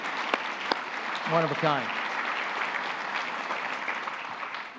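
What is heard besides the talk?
audience round of applause at award ceremony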